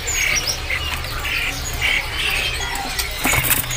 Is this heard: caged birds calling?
yes